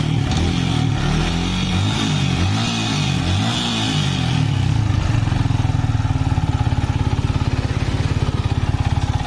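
A Yamaha Vixion motorcycle engine starts after a clutch plate install, cranking roughly at first and then settling into a steady, loud, close chugging idle with a rapid rhythmic pulse.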